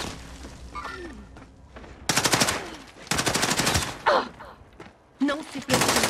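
Automatic gunfire in Call of Duty: Modern Warfare rattles in loud, rapid bursts separated by short gaps, with brief voice chatter and game effects in between.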